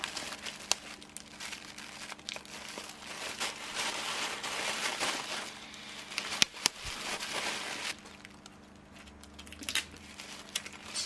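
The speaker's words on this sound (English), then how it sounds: "I'm gonna try to do this somewhat like wrapping a present" A journal being gift-wrapped like a present, with near continuous crinkling and rustling of wrapping paper, occasional sharp tape pulls and taps, close up and with no speech.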